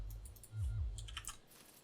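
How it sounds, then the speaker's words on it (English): Computer keys clatter in quick light taps, a short flurry at the start and a denser run of clicks near the middle, over a low rumbling hum. "I hate using keyboard, but I don't have a choice right now."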